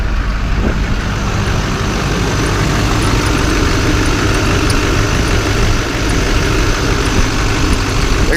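A Duramax diesel pickup truck engine idles steadily just after start-up, a loud, continuous low rumble with even mechanical clatter throughout and no talking.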